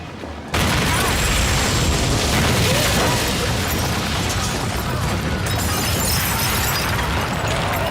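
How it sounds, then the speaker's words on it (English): A sudden loud blast from a gas explosion in a pub erupts after a brief quiet moment, followed by a sustained roar of rumbling and crackling debris. "a pub had a tragic gas leak leading to an explosion"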